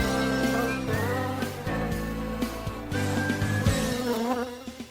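Honeybees buzzing around the hives, a steady dense drone with shifting tones, close and fairly loud throughout.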